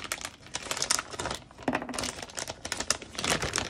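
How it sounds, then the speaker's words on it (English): Crinkly plastic packaging rustles and crackles steadily while washi tape is pulled out of a sticker subscription box, close and fairly loud with a constant busy texture and no voice. "Okay, so I'm taking out the washi."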